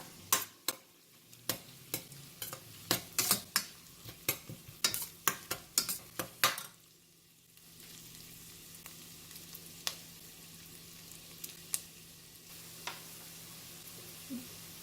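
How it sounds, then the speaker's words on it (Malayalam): Onion sautéing with crushed ginger and green chillies in a pan for tomato rice: a rapid series of sharp spoon clacks and scrapes against the pan for several seconds, then a quieter steady sizzle with sparse taps, no speech. "ഇപ്പോൾ സവാള ഒരുമാതിരി മൂത്ത് വന്നിട്ടുണ്ട്. നമുക്കിനി അതിലേക്ക് ചതച്ചു വെച്ച ഇഞ്ചിയും പച്ചമുളകും ചേർത്ത് കൊടുക്കാം."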